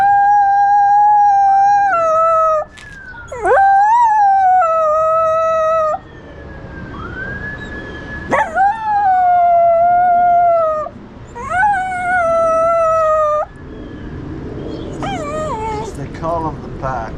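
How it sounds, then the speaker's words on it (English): A dog close by lets out long, wavering howls that rise and fall in several drawn-out bouts as a fire truck siren passes, with short breaks between them. "she has a tendency to start howling when a siren gets close"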